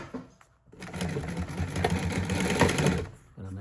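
A sewing machine stitches upholstery for an armrest repair, running in one steady, fast, continuous burst for about two and a half seconds, close and loud, with brief pauses at the start and end.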